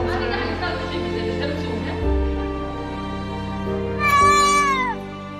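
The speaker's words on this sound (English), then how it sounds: "A cat with a broken leg came to the hospital to get a cast." A cat with a broken leg at an animal hospital, giving a loud, drawn-out meow near the end over a steady background hum.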